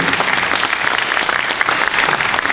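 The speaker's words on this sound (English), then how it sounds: "Another round of applause for the quartet." Steady, dense applause from a high school winter band concert audience fills the whole stretch, a full wash of clapping hands without any pauses.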